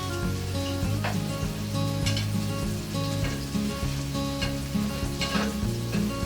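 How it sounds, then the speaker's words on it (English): Beef hamburger patties sear in rendered fat in a hot pan at a cooking demo, a loud dense crackling sizzle that runs unbroken throughout with nothing else over it. "You roll the fat around in the pan. And the fat, and you're going to get some of the beef to start releasing some of its fat as well."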